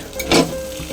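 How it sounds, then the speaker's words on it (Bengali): Eggs dropped into white oil on a hot griddle, giving a brief loud splash of sizzle that settles into a steady, soft frying hiss close by. "এ দেখো চাটুতে সাদা তেল দিয়ে দিয়েছি। এবারে ডিমগুলো দিয়ে দিলাম।"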